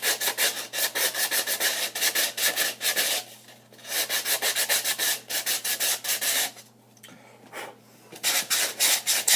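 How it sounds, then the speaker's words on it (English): Hand sanding of wood with coarse grit paper, a close, loud rhythmic rasping in quick back-and-forth strokes, pausing briefly a few times before resuming. "I went ahead and sanded everything back down"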